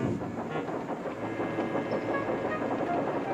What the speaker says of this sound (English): Thomas was shunting shining new coaches